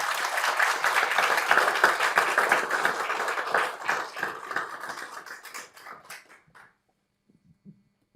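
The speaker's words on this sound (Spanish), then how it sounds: "y pido para ellos, por favor, un fuerte aplauso" Audience applause for lawyers at a book presentation on election fraud in Guatemala: dense clapping from a large crowd holding steady for about five seconds, then thinning into scattered claps and fading to silence.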